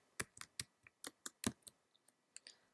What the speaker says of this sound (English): I'm just going to type in number and a character